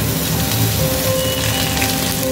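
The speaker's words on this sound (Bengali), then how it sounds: "ভালো করে ভেজে নেব" Cinnamon, cloves, cardamom and garlic and ginger paste fry in oil for a Bengali murgh musallam, giving a brief, dense, even sizzle close up with no voices.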